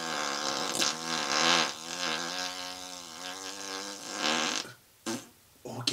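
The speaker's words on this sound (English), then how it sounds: "So let's get in the farting position and let's rip it out." A professional flatulist lets out a long, loud, buzzing fart with a wavering tone, lasting several seconds before tailing off, followed by a couple of short sputters.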